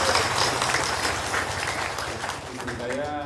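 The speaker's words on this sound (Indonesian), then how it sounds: "Sekali lagi dong, tepuk tangan dong" An audience claps together in a steady burst of applause, moderately loud and continuous, with some voices mixed in under the clapping.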